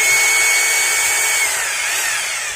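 A Maktec MT870 rotary hammer running in concrete drilling mode with a fault so it fails to hammer, giving a loud, steady high-pitched motor whine with no percussive pulses, continuous and close.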